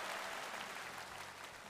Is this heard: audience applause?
yes